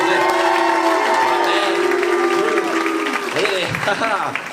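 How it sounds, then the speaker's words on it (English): Loud, sustained applause from a stand-up comedy audience fills the space, with some whoops and cheers rising through the clapping. "Have a round of applause for him."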